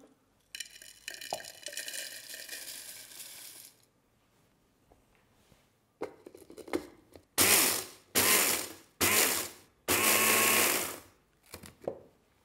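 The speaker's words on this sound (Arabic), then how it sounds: "خلينا نطحنه ونشوف شكله كيف حيكون ممكن أحطه في مطحنة هيك ببساطة" A small electric grinder whirs as cornflakes are ground, with a long buzzing run first and then several short, loud bursts separated by pauses, plus light handling clatter between them.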